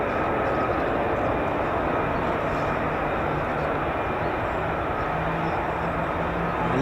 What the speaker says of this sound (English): You are listening to the world's most powerful single-engine fighter jet engine, Pratt & Whitney's F-135.